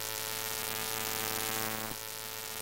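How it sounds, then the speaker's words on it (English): A buzzing static under-sound effect from the video game Sonic 3 and Knuckles, a steady humming hiss with a brief dip near the end, heard alone at moderate level. "And then there's also this static kind of under sound to it"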